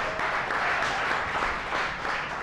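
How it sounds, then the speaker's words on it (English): Audience applause cheering on a chef during a timed cooking showdown: a steady, dense wash of clapping that holds at an even level through the whole moment, with no talking over it. "Let's give him a big round of applause."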